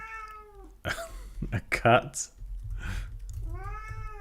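A pet cat in a home office meows twice, a drawn-out cry at the start and another at the end, close and clear, with a person talking in between.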